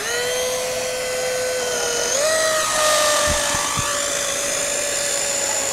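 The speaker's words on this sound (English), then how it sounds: "this is a chainsaw and it's cordless" A Greenworks Pro 80V cordless electric chainsaw with an 18-inch bar and chain runs with a steady, high whine, its pitch rising briefly as the motor revs, loud and close with no talk.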